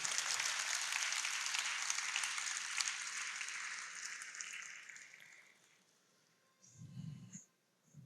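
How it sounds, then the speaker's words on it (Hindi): A crowd applauds steadily at a religious gathering, a dense patter of many hands that gradually fades out, followed by a brief low rumble. "हम सभी एक साथ उन भगीरथों को तालियों से अभिवादित करेंगे।"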